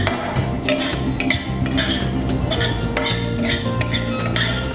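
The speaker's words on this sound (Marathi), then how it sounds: "खसखस पण एकदम थोडीशी नाजूक भाजून घ्यायची।" Poppy seeds being gently dry-roasted in a pan for festival karanji, with a spoon scraping and stirring in quick irregular strokes, metallic clinks and soft rattles close up, no talking.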